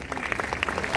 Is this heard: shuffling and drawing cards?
no